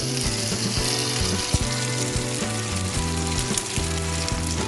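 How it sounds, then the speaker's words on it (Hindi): Batter poured into hot ghee sizzles steadily alongside a rhythmic mechanical rattling and whirring, with a brief louder clack near the middle, all fairly close. "अभी घी गरम हो गया और इसके ऊपर मैं डालती हूँ"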